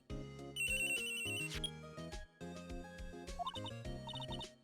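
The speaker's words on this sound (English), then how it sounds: "Telephone ringing." Cartoonish electronic phone ring from the courtroom video game Phoenix Wright: Ace Attorney, a jingly melodic tone repeating twice over steady game music, loud and close with no voices.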